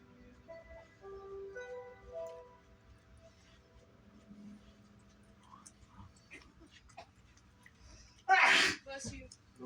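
A single sharp sneeze bursts out loud and close near the end, following a stretch of quiet background with faint music-like tones.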